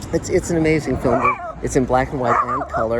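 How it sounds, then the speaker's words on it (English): Dogs bark and yip in the background, with a whimpering tone, nearly continuous under someone talking close by over most of the clip. "Sorry about the dogs, guys."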